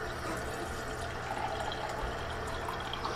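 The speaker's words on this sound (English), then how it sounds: "I'm now going to add some filtered water in here." Filtered water poured steadily into a French press holding brine shrimp, a continuous soft rushing and trickling close by, with no talking.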